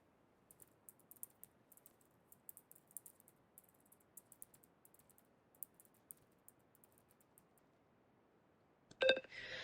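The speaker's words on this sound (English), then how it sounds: "I'm just typing something" Soft, irregular tapping of keys on a computer keyboard, quiet and close, ending with a brief louder clatter.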